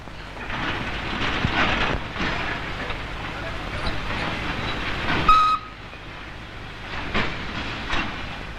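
Freight trains hauling coal rumble and clatter through the Kusunda railway yard in India in 1974, with a continuous rolling roar, rhythmic wheel clicks and a brief high whistle midway; a voice is faintly present.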